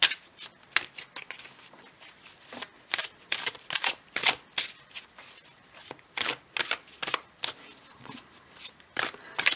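Oracle cards are shuffled by hand in quick, crisp bursts of riffling and slapping, repeated in an uneven rhythm close up, with no talking.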